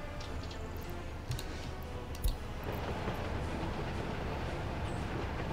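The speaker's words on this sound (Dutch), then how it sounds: "We gaan die trein hier volgen." A train rolls along the track in Workers and Resources: Soviet Republic, a steady rumbling drone with a few sharp clicks and a brief clank, heard alone and close.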